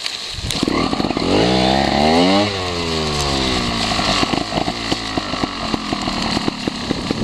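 A small engine on a trail bike screams with its throttle stuck wide open, revving hard and loud with rising and falling pitch before settling into a steady high whine.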